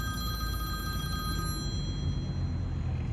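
A telephone bell rings loudly and steadily over a low background rumble, the high ringing tones fading out about halfway through.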